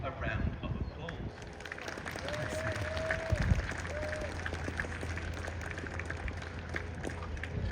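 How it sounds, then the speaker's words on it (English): Outdoor crowd applause at a Warwick Castle falconry display, greeting a bird of prey's final flight as it lands on the handler's arm; steady scattered clapping with faint whistle-like calls and a low hum throughout. "when he lands on John's arm, feel free to give him a round of applause"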